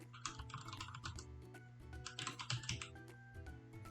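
Rapid keystrokes on a computer keyboard while a username is entered during operating system setup, a dense clatter of close, crisp clicks in quick uneven bursts with no voice.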